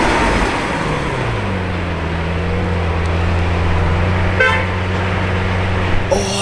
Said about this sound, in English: we have an Aventador!